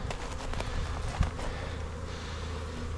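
A package of honeybees being installed into backyard hives gives off a steady, dense buzz that fills the whole stretch, with a brief louder thump near the middle.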